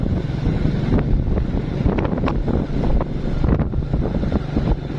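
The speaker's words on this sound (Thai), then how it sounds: "นี่มันลม" Strong outdoor wind buffets the microphone in a loud, steady roaring rush with gusty surges throughout.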